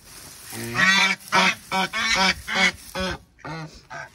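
Ducks and geese at a small backyard mini zoo honk and quack loudly and close by, in a rapid series of about eight harsh, nasal calls in quick succession.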